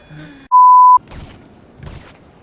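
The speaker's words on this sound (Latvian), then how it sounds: "Es tak dzirdu, ka pīkst." A steady electronic warning beep from GTA 5 sounds once, loud and pure for about half a second, with quiet game noise and faint voices around it.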